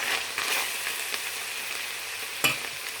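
Onion and garlic sauté in a pan, a soft continuous sizzle with scattered scraping stirs of a utensil and one sharper clack near the end, fairly quiet, no talking.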